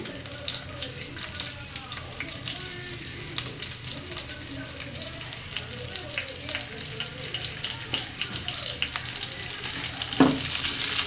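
Onion and garlic frying in a pan for a Chinese-style vegetable dish, a continuous close sizzle with crackles and stirring scrapes, growing louder toward the end.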